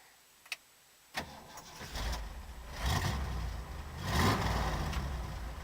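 A 1968 Ford Bronco engine cranks briefly after a couple of clicks, catches, and settles into a rough idle with two swelling revs, close and fairly loud.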